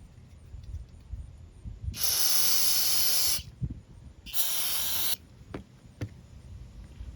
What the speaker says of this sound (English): And we'll spray it down.